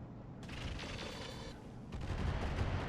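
Incendiary-ammunition weapon fire in the mech game RogueTech, mechanical whirring and bursts of heavy fire, then louder rumbling booms toward the end, moderately loud and without speech.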